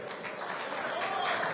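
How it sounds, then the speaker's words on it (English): An audience at a boxing weigh-in in Palm Desert claps in a dense, steady burst of applause for two fighters, with a voice faintly audible underneath. "Let's make some noise. Clap it up for these two."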